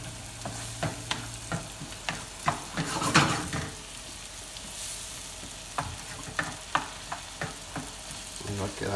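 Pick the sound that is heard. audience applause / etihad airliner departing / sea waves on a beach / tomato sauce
tomato sauce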